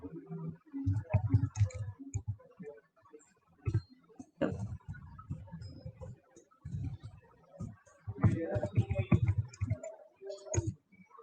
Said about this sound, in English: let me see if I can type it here